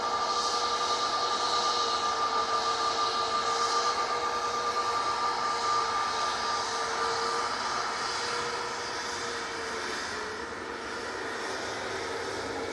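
EasyJet airliner jet engines at Manchester Airport, a loud sustained whine and roar with a steady tonal drone, heard from outdoors, easing off slightly near the end, no voices.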